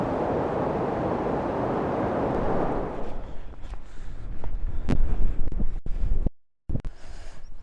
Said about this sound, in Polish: Ten wiatr podejrzewam, że będzie dużym utrudnieniem tych naszych vlogach szkockich